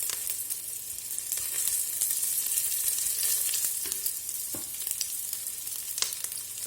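Food frying in a pan for a budget leftover couscous, a dense, bright sizzle filling the whole stretch at close range, with a few soft knocks and scrapes of stirring and no talking.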